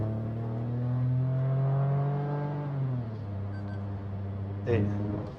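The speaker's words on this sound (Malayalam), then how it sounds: "നമ്മളിപ്പോൾ ഇതാ ഒരു നാൽപ്പത് കിലോമീറ്റർ സ്പീഡിലാണ് പോണിയ ഫുൾ ത്രോട്ടിൽ പ്രസ് ചെയ്തു" A Toyota Taisor turbo engine pulls at full throttle from about 40 km/h, a steady droning hum that rises in pitch, then dips as the gear changes, heard from inside the cabin.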